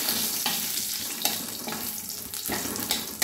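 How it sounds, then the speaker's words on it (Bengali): Whole spices, bay leaf, dried chilli, cardamom, cinnamon and clove, fry in hot oil for a hotel-style egg curry, giving a steady close sizzle and crackle with the scrape of stirring. "ফোড়নটা আমি একটু ভেজে নিই।"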